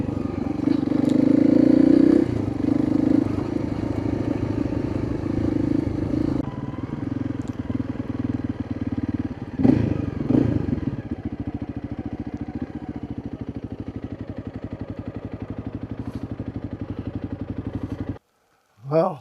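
A motorcycle engine rumbles steadily at idle after a ride, close and continuous with a brief rev partway through, then cuts out near the end.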